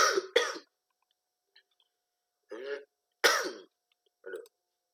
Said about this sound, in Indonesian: ganjel tenggorokan, maaf ya batuk-batuk.